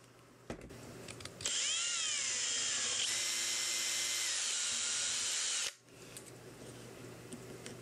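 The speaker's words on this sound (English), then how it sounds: "I'm rigging together a quick wooden mount system thing, drilling the holes for it right now" A power drill bores holes through a wooden mount for a 3D-printed tourbillon clock prototype, one loud, steady whine of about four seconds that drops in pitch under load, heard alone and close.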